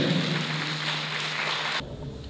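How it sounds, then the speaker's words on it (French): Teachers at a network gathering in Ouémé applaud Dr Bertin Y. Dansou: a dense, steady wash of clapping that carries on evenly, then cuts off sharply near the end. "Que je vous prie d'applaudir, chers collègues."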